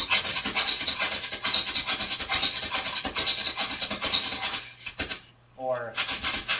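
Shonga tunable shakers are played dry in a fast, even rhythm of bright, gritty rasping pulses, close and loud, with a brief pause and a short vocal sound near the end before the shaking resumes.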